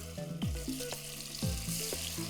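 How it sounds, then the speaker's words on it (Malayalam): Marinated fish pieces frying one by one in hot oil in a pan, a steady close sizzle with faint crackles throughout, no voices. "എണ്ണ ചൂടായി വെച്ച് നമ്മൾ ഈ പെരട്ടി വെച്ചേക്കുന്ന മീനുണ്ടല്ലോ അത് ഓരോന്നായിട്ട് വറുക്കുക"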